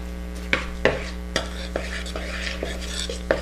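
Rosemary being stirred into dry flatbread ingredients in a bowl, with a handful of sharp utensil clicks and scrapes against the dish over a steady low hum, close and moderately loud with no talking.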